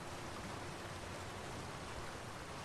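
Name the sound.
waterfall in the video game The Elder Scrolls Online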